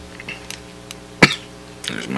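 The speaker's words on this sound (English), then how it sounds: "There's my cough." A single short cough close by, with a little faint throat noise before it and a rustle near the end.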